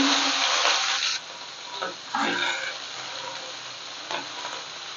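Garlic and onion fry in oil with nigella seeds, giving a loud, close sizzle that drops after a second and then carries on more softly, broken by brief stirring scrapes.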